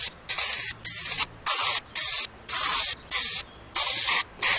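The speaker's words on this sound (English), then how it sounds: "going to give this 2 coats of the Krylon looking glass paint on the flat side" Krylon Looking Glass spray paint hissing from an aerosol can in eight or nine short bursts with brief gaps, close and loud, applied as light coats on the flat side of a tabletop scatter piece.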